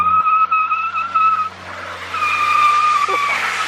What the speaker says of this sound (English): That's how you do a skid.